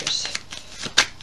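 A deck of Vera Sibilla oracle cards is shuffled by hand, producing brief, close riffling bursts of paper flicks.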